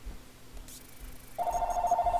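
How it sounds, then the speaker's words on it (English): A telephone rings in the game Papers Please, a rapid electronic bell trill starting partway through and continuing loudly to the end, after quieter background ambience. "Phone rings every time I try to make a video."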